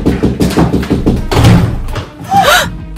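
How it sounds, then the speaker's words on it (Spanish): Someone knocks repeatedly on a door in a dramatic scene. The knocks come as a rapid run of thuds mixed with loud voices and music, and a rising tonal cry sounds near the end. "Llaman a la puerta."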